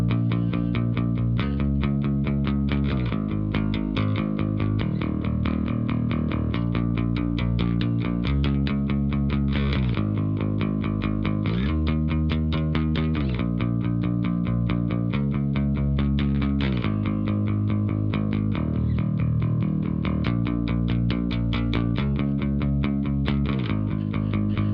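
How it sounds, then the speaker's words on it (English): Fender Bass VI played as a deep bass line through the JC clean preset on a Tone Master Pro, with a low, full, continuous tone. The bass plays sustained repeating notes with a steady pulse and a slight shimmer on top, alone and without voices. "you can use the JC clean for the deep bass, and it sounds something like this"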